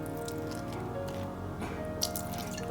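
Apple cider vinegar splashes faintly onto a Greek salad, a soft wet dripping and squishing that stays quiet and close over a low steady room hum.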